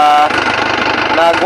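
A runaway Isuzu 4JB1 diesel engine roars loudly and steadily with a fast rattling pulse, close up, while someone talks over it.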